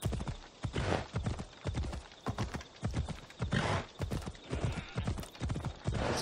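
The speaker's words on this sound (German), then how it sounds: "Voll das Offroad-Pferd." Horse galloping in the video game Assassin's Creed Odyssey, a fast rhythmic clip-clop of hooves with a whinny, steady and prominent throughout.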